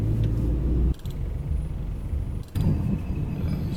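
A car drives along the road, heard as a steady, loud low rumble from inside the vehicle, briefly dipping twice before resuming.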